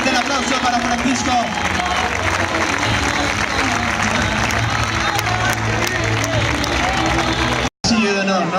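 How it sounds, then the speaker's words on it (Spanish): A crowd at a recortadores bull-leaping event in Orozko, Bizkaia, breaks into sustained loud applause and cheering, with dense clapping and crowd noise filling nearly the whole stretch before a brief cut. "Fuerte el aplauso para Francisco."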